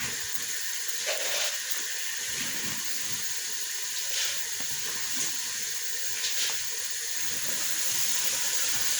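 Rice grains frying in a little hot oil in a pan, giving a steady, even hiss and sizzle with faint clinks now and then, continuous and fairly quiet throughout.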